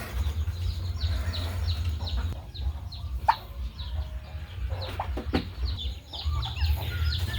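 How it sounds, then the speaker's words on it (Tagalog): Newly hatched turkey poults give soft, repeated peeping and chirping calls close by, with a low steady hum underneath. "nakapisa na naman po ang ating pabo"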